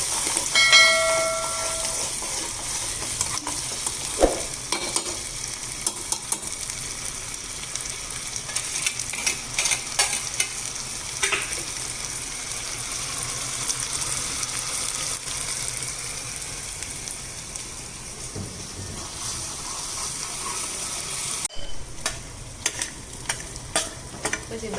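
Ginger, chili, onion and garlic fry in a little oil for a Gujarati chavana shaak, giving a steady broadband sizzle with intermittent scraping stirs, close and fairly loud throughout with no talking.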